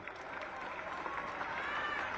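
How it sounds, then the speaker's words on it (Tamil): Audience in a crowded hall applauding steadily, a dense even wash of many hands clapping that holds at one level throughout, with no voices rising above it. "ஒரு கைத்தட்டு பண்ணுங்க."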